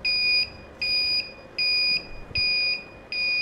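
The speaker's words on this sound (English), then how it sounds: "the noise that you're hearing is that the device thinks that there's been an arc being produced" A BeautyTeck Plus device set to whole counter mode at 900 milliseconds sounds a loud electronic alarm for a detected arc: five steady high-pitched beeps, each about half a second, evenly spaced with short gaps, no talking.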